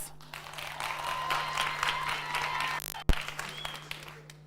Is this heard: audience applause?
yes